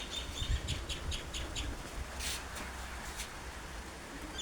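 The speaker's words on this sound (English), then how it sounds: "It's a Curraong." A currawong being fed outdoors gives a few short calls amid other birds and outdoor noise. The calls are moderately faint against a busy background.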